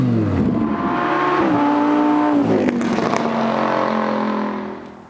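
A 2015 Lamborghini Huracan LP610-4 engine revs up loudly with rising and falling harmonic tones, close to the listener. It holds steady for several seconds, then fades out at the end.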